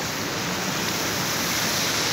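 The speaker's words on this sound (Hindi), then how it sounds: "अच्छा तो मैं आई हूँ आबशार पे" A waterfall pours in a dense, steady rushing roar that stays constant throughout, with no other sounds on top.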